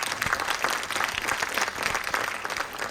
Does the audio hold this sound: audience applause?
yes